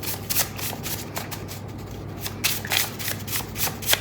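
A tarot card deck is shuffled close by, with quick riffling bursts and soft slaps repeating in uneven pulses over faint background hum.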